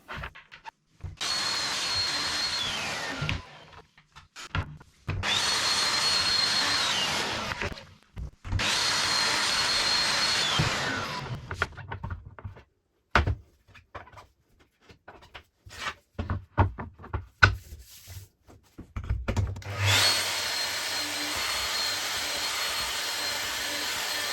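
A router bit plunges through an MDF workbench top to cut the grid of holes for an MFT-style table. The loud whine comes in long bursts separated by choppy stops and starts, and a steady dust-extractor hiss runs at the end.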